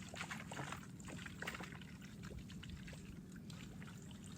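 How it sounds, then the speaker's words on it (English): Sanitizer solution poured onto a one-gallon seed-starting container, a faint steady liquid splash and trickle running the whole time with soft bumps, no talking. "So I'm going to pour my sanitizer solution onto this"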